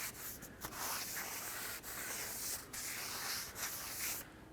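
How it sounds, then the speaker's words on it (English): Brake parts cleaner sprayed and wiped with a rag on a 2012-2014 Ford F-150 rear brake part, a close, quiet, continuous hiss and scrubbing rub with a few brief pauses, then stopping near the end. "Let's degrease this surface as well, the same way. Brake parts cleaner and a rag."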